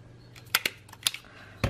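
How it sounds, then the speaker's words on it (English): A stapler pressed through ribbon on a paper gift tag, a few sharp close clicks and snaps in quick succession over a faint low hum. "to hold that in place there, I am just going to staple it"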